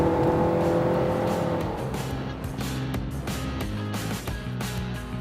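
A Nissan engine paired with a CVT transmission revs up and holds a steady drone without distinct gear shifts, heard loud and close from inside or near the car.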